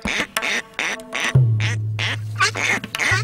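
Ducks quacking near a bird-catching site where captive ducks lure wild ones, a run of loud, clear quacks in quick bursts with a brief low honk partway through.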